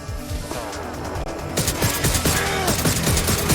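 Loud gunfire in the video game WDL erupts into dense, rapid bursts of overlapping shots after an EMP, with a tonal background hum running underneath.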